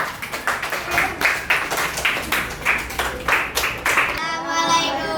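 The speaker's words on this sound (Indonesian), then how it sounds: "Boleh aplaus, tepuk tangan." An audience claps in a classroom or school gathering, a run of loud, uneven hand claps over several seconds that fades out near the end.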